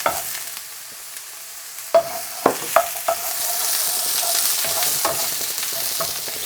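Beef sizzles steadily in oil in a pan, with a few sharp stirring clatters in the first half and a constant close frying hiss throughout.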